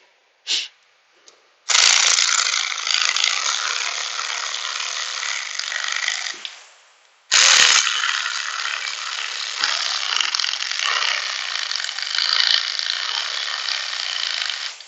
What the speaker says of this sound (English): I do have a little electrical ratchet I like to use too